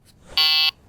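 A carp fishing bite alarm gives one sharp, loud electronic tone lasting about a third of a second, close to the microphone in a quiet setting.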